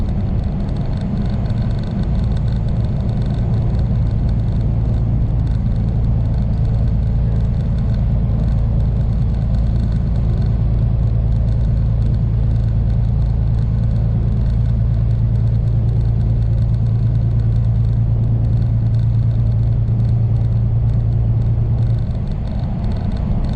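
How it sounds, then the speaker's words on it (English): Steady low engine rumble and road noise from a flatbed truck cruising along a country road, a continuous near drone with a sustained hum, no talking. "We're going to have a little bit of country road driving."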